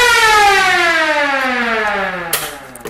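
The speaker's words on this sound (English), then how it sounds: "Now this is the pedal for the siren." A siren on a John Deere Gator 625i set up as a fast-attack wildland fire vehicle, sounding loud and close as a single descending wail that winds down before a short clunk and rattle.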